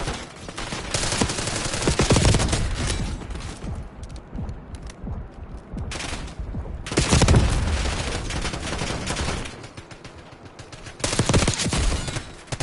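Heavy gunfire from an unusual weapon in Call of Duty Black Ops 6, loud bursts and sustained volleys filling most of the clip with brief lulls between, no voices.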